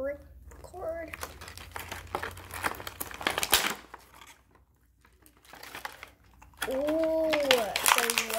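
Beyblade toy packaging is torn open with crisp plastic crinkling in close bursts, broken by short pauses, while someone talks over parts of it.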